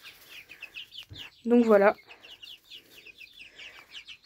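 Clucking from four hens of the Coucou breed, a steady run of chirpy clucks throughout with one louder, drawn-out call in the middle and a short spoken phrase near the start.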